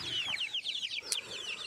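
Chickens, including Kuchinsky and Leghorn hens, cluck and chatter in quick, high, repeated calls, close by and overlapping, with a brief wing flutter partway through.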